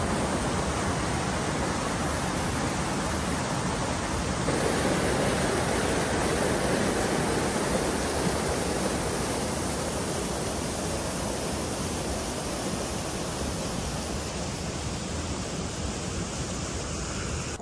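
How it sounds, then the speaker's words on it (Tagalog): Continuous rushing water, a dense steady roar like a stream or small waterfall, loud and unchanging with no voices. "Medyo nakaka-relax talaga yung tunog ng tubig eh"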